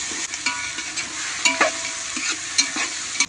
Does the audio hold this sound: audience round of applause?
no